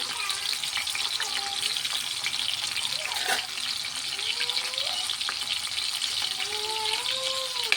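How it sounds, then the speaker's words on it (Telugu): Dried fish frying in hot oil, a dense continuous sizzle and crackle heard up close and steady throughout, with faint voices murmuring in the background. "ఆయిల్ బాగా వేడెక్కింది ఎండు చేపలు అయితే కొంచెం ఇలా ఫ్రై చేసి పెట్టుకుందాం"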